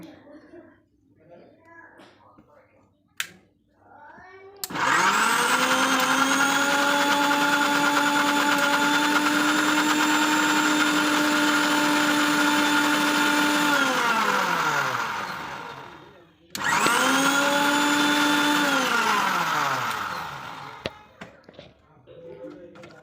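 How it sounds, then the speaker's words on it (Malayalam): A mixer grinder whirs loudly and steadily as it blends chia seeds, ragi and banana into a drink. It runs for about ten seconds, stops briefly, then runs again, with faint talk before it starts. "അപ്പോൾ ഇതെല്ലാം കൂടി മിക്സിയിൽ ജാറിലേക്ക് ഇട്ടിട്ട് നമുക്കൊന്ന് അടിച്ചെടുക്കാം കേട്ടോ"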